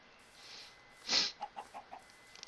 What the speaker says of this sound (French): Des poules. Des poules de partout.